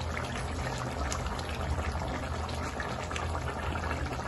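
Restaurant-style mutter paneer gravy with peas simmering in a covered pan, a soft continuous bubbling and hiss held at an even low level throughout, with no voices over it.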